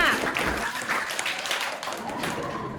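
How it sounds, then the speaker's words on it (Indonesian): Classmates applaud a student group after its presentation in a classroom, a short, dense patter of clapping lasting under three seconds, fairly close, with voices mixed in. "tepuk tangan untuk kelompok 5"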